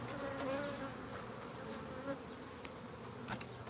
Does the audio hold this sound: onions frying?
no